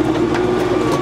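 An LS Mtron MT4 tractor engine idles close by, a loud, steady low hum with a constant droning tone and no breaks.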